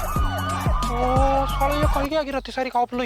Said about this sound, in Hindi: ये एम्बुलेंस है पुलिस है समझ